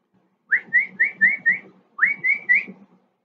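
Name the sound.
whistle imitating a bird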